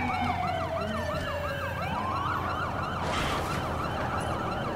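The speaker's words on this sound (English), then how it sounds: "I don't even know what's up with the ambulance today" Ambulance siren in the video game Watch Dogs 2, a loud wailing yelp cycling rapidly and sweeping up and down, layered with a second siren tone over steady traffic and engine noise, continuous and close.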